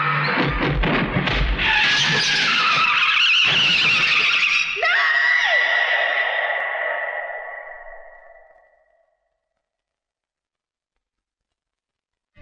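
A car skidding and braking to a halt in a dramatic film scene: loud, shrill tire squeals that slide downward, then fade away into silence.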